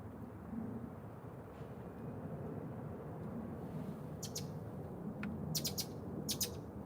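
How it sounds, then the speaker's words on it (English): A blackbird sings in a Fort Lauderdale garden, several short bright bursts of song rising over steady low background rumble and ambient noise, fairly distant and intermittent. "there's a blackbird right there"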